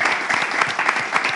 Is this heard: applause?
yes